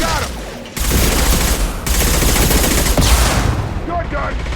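Rapid gunfire in the video game Mass Effect rattles on almost without a break, loud and close, with dense bursts that briefly stop and start again.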